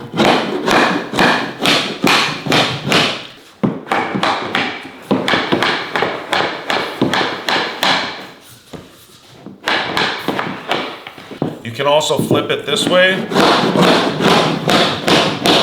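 Repeated sharp wooden knocks from a plank hammer tapping flooring, fast and steady, pausing briefly, with someone talking now and then.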